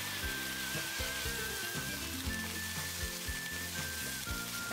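Pork ribs stir-fried in a wok with caramelized sugar and soy sauce give a steady, close sizzle, with repeated scraping strokes of the spatula against the metal, and no talking.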